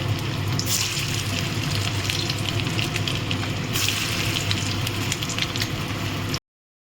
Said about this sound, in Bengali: সর্ষের তেল গরম করেছি এতে আমি এই বলগুলো ভেজে তুলে নেব